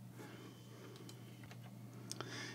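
Light, quick keystrokes on a computer keyboard, typing out a command, with a few sharper clicks near the end over a steady low electrical hum.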